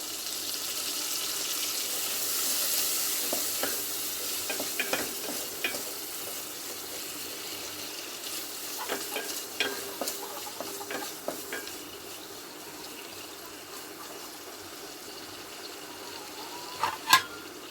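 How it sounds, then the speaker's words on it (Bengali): Prawns tossed and lightly fried in oil with turmeric, a steady low sizzle with scattered scraping stirs and a sharp clatter near the end. "চিংড়ি মাছটা প্রথমে তেলের মধ্যে দিয়ে নেড়ে চেড়ে হালকা ভেজে নেবো"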